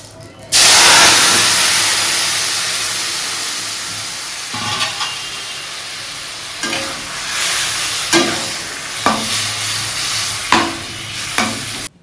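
Meat cooking in a pan gives a loud, steady sizzle and hiss that starts abruptly and holds throughout, with occasional stirring scrapes and clinks rising above it.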